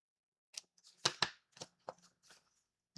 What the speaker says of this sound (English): So I will have to trim that because we don't want it to hang out and catch on the envelope.